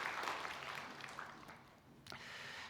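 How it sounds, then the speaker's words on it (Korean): A church congregation applauds, a broad, steady wash of many hands clapping together from a distance in a large reverberant room, easing off slightly before a brief sharp knock near the end. "여러분 큰 박수로 격려해 주시기 바랍니다"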